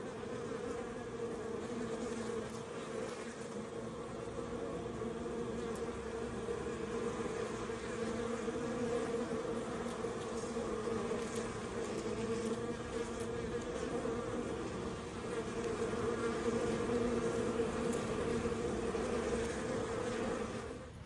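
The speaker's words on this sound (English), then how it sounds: "So here we'll spend just a couple of minutes listening to the bees" Steady, dense buzzing of many honey bees, a continuous drone that stays fairly even throughout with no voices.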